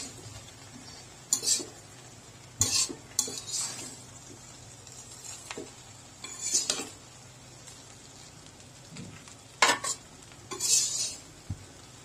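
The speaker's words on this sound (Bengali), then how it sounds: "এখন লাড়া দেব পুরা বিরিয়ানির সাথে যাতে মিশে যায়" A spoon stirs biryani with small red potatoes in a pot, scraping and clinking against the metal in scattered bursts over a faint sizzle.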